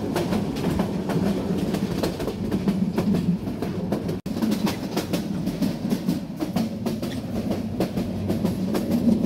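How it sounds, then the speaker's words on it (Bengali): Brahmaputra Express passenger train running at speed, a steady loud rumble with rhythmic clickety-clack of wheels over rail joints, heard from inside the carriage with one brief dropout midway. "আমাদের ব্রহ্মপুত্র এক্সপ্রেস ট্রেনখানা চলতে শুরু করলো, এবং যথেষ্ট পরিমাণে স্পিডে কিন্তু চলছে"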